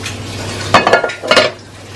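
Glass dish of chicken or pork curry being covered with a lid, giving two short clinking knocks close by after a brief quiet hum.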